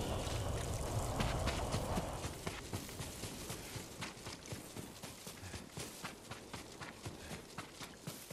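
Horse hooves clip-clop steadily at a walk in Ghost of Tsushima, a regular thudding rhythm of moderate loudness that continues through the whole stretch without talk.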